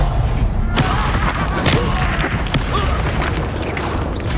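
Spell explosions in the Hogwarts Legacy video game, a dense run of loud booms and crashing bursts with several sharp blasts landing in quick succession.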